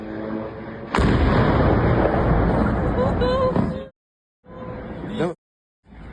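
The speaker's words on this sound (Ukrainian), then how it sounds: "Еще взрыв." A wartime explosion during a strike on an airfield, a sudden loud blast that breaks into a long roaring rumble, with voices talking over it and a couple of shorter noisy bursts after a pause.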